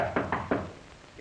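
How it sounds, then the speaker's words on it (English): Three quick, evenly spaced knocks on a door, sharp and close, followed by a short pause and a faint trailing sound. "Get the door, Tubby"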